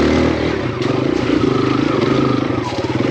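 Kawasaki KLX 140RF four-stroke dirt bike climbing a tight trail notch, a steady close chugging engine with a low rhythmic pulse and mechanical clatter, held at moderate revs throughout.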